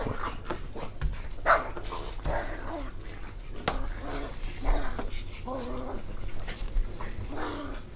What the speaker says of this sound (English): Them dogs out there fighting.